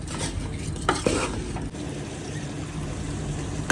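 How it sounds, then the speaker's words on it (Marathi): Sweet mango pickle made with jaggery bubbles at a boil in a pot and is stirred, a close scraping and stirring over a soft sizzling simmer, with a few louder clinks of the spoon. "हे बघा अशा रीतीने छान उकळी आली आहे"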